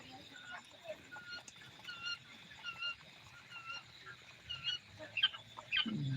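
Quails calling in short, sharp bursts on a quail farm, a few clear calls near the end rising over a busy, murmuring background.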